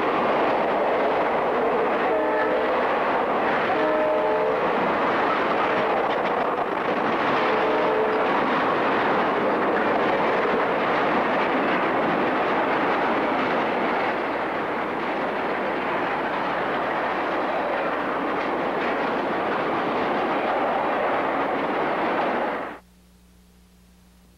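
Two GP40-2 diesel locomotives pass a signal near St. Augustine, Florida, in 1986: a loud, close rumbling roar with short horn blasts early on, wheels rolling steadily until the sound cuts off sharply near the end.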